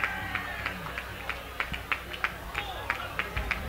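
A crowd at the finish line of a state championship race cheers an injured runner, with steady rhythmic clapping and a noisy roar under a commentator's voice.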